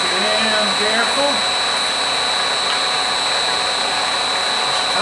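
A machine tool spins at 200 RPM while setting up to cut toolholder dovetails, giving a steady, fairly loud whirring hum with a faint high whine, and a voice briefly speaks near the start.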